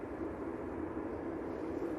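A Ryanair jet departing Manchester Airport gives a steady, distant broadband roar that stays even throughout.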